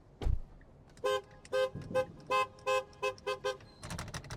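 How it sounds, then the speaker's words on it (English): A Tesla Cybertruck horn honks repeatedly in short, evenly spaced bursts, loud and close, with a quieter click at the start. "Okay, normal honk sound."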